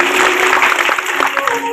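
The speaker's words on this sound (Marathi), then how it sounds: "एकदा जोरदार टाळी वाजवा" A crowd claps loudly and continuously at a devotional music event for a Shiv Mahapuran katha, dense close applause with a voice speaking over it.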